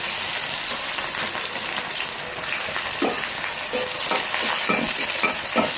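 Onions dropped into hot oil in a home kitchen pan, giving a steady close sizzle with stirring scrapes and brief spatters, no talk.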